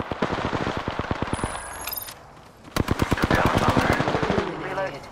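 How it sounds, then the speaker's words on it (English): Rapid automatic gunfire from a weapon in Apex Legends, with two loud bursts of evenly spaced shots split by a short pause and brief electronic game tones between them. "Opening fire."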